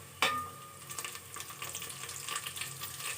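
Garlic, curry leaves, coriander and mint sautéing in a hot pan, a sharp clatter as they go in followed by a steady crackling sizzle with stirring.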